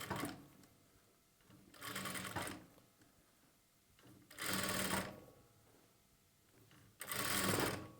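A sewing machine stitches thread piping onto a lining in three distinct bursts of rapid, close mechanical whirring, each lasting about a second, separated by quiet pauses.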